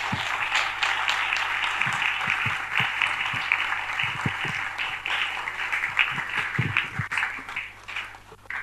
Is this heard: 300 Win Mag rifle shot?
no